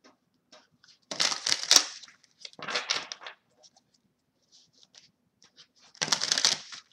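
Tarot cards shuffled by hand for a reading, three distinct bursts of riffling and sliding card noise, close and fairly quiet, with short pauses between and no talking.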